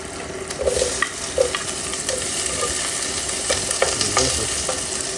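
Onion frying in a pan for a fish dish, a constant close sizzle broken by light stirring clicks and scrapes, with no one talking.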